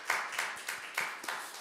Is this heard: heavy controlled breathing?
no